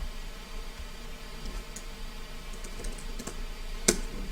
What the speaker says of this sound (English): So let me type it in really quickly.